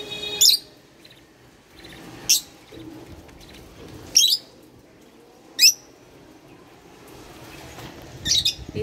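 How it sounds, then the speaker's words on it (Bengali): Pet budgerigar chicks and doves kept together in cold weather give short, sharp chirps and squawks, spaced a couple of seconds apart at close range, with a faint rustling background between the calls. "এই যে বাজরিগরের বাচ্চারা"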